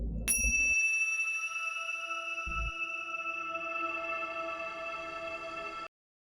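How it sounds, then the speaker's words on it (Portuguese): A single bright bell struck once to open a group prayer, ringing with a sustained metallic tone that decays slowly over several seconds before cutting off, with faint low bumps of handling underneath. "a nossa vibração começa com este sino."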